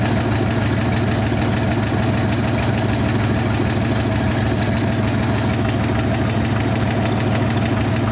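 A 1974 Ford Bronco engine, abandoned for 35 years, runs steadily with a rough, knocking idle. It is loud and close and continuous throughout, with no speech.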